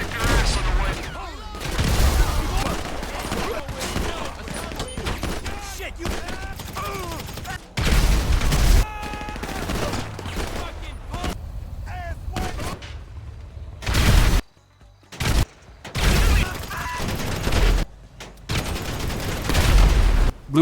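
Heavy gunfire and explosions in GTA Online as gang property in Stab City is destroyed: loud bursts of automatic fire and booming blasts repeat almost continuously, with a few brief gaps between volleys.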